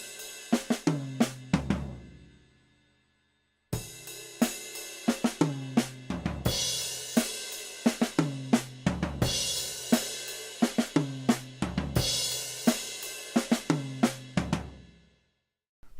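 On a drum kit, a high-energy fill on snare and drums for a Trinity College piece is played twice: bursts of sharp, rapid hits with cymbal wash, a short silence between the two runs.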